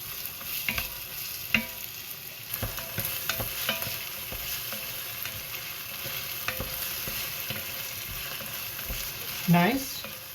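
Chopped onions sizzle in hot oil for osso buco, a continuous steady fry with scattered pops and clinks of stirring, and a brief rising voice-like sound near the end.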